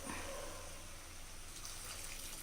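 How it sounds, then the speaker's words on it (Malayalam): About a cup of hot water poured into a pan of chicken perattu gives a faint, steady sizzling and splashing wash that carries on without a break, with no talking. "ഞാനൊരു 1 കപ്പോളം ചൂടുവെള്ളം ഒഴിക്കുന്നുണ്ട്."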